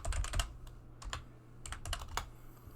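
Fingers typing on a computer keyboard, a quick series of close, crisp key clicks in short bursts with brief pauses between them.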